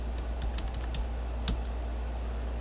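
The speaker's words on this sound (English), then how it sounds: "I was typing in Corbin fucking Myers" Quick, light keystrokes tapping on a computer keyboard in a short irregular burst, then a pause over a low steady hum.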